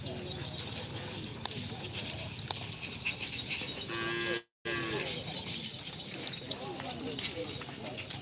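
Cattle moo repeatedly at a Karapan Sapi bull race in Pamekasan, a long low call rising above crowd chatter, announcer talk and scattered hoof clip-clops, with a brief dropout midway.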